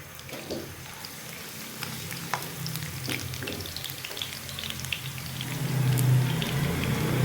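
Finely chopped garlic sizzles and crackles steadily in a hot pan as it cooks to light brown, a continuous frying hiss with scattered pops that grows a little louder toward the end.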